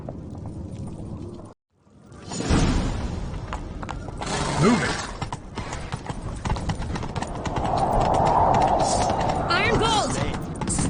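A horse gallops in The Witcher 3 game with hoofbeats in quick rhythm during a chase, mixed with clashing effects and a short gap in the sound near the start; someone briefly shouts over it.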